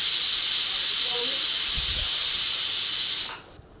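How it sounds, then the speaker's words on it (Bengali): Steam escapes from a pressure cooker as a loud, steady, close hiss that holds for about three seconds and then cuts off abruptly. "প্রেসার কুকারে মুখটা বন্ধ করে দিলাম দিয়ে তিনটে কি চারটে সিটি নিয়ে দিলাম"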